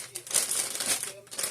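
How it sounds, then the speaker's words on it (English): Small plastic bags for freezing shredded zucchini crinkle and rustle steadily up close, a continuous crisp handling noise with brief pauses and no talking. "And I have these small plastic bags"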